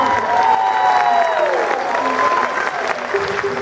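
A Spanish-language event in San Pedro, California: an audience applauds a singer with steady clapping and some cheering, while a tonal, sung or instrumental line glides through the first half.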